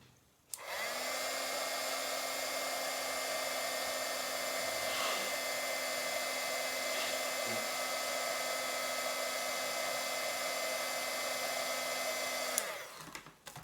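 A heat tool melts embossing powder on a handmade card. It gives a steady, fan-driven whirring blow that starts abruptly, holds evenly for about twelve seconds and then cuts off.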